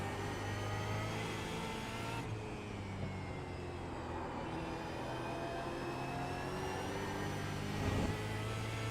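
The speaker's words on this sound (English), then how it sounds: "There's a car leaving the pits." In a racing video game at Watkins Glen, a race car leaves the pits, its engine a steady, faint drone with a brief rise in revs near the end, no talk over it.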